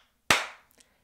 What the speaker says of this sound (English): that's a perfect clap